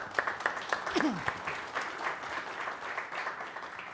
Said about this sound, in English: So a round of applause for Andrew, please.